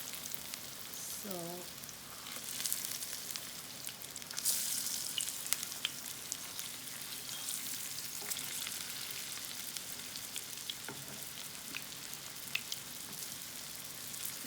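Falafel frying in hot oil, giving a continuous soft crackling sizzle held for a long stretch, faint and close, with a brief tonal sound early on and no talk.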